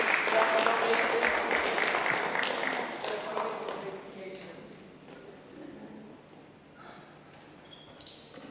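Audience applause at a university education student support seminar, a dense burst of clapping that is loudest for the first three seconds, then thins and fades while a few scattered claps and faint room sounds linger.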